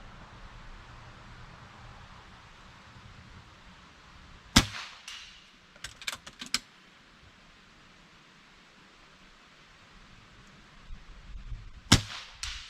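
Rifle shots fired at a target 75 yards away outdoors, a handful of sharp distant cracks spaced seconds apart over a faint windy hiss, with a short quick cluster in the middle.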